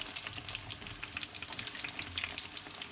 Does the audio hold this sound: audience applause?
no